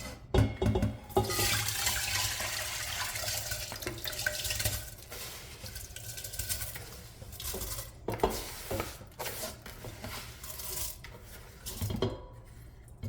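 Grains are rinsed in a rice cooker pot, with water running and sloshing steadily for several seconds, broken by stirring, clinks against the pot and short splashy bursts, all close up and with no talk.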